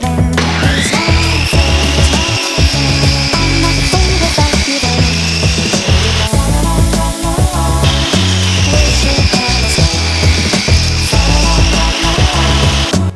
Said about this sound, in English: set up our table saw with our crosscut sled so we can even up the edges of the board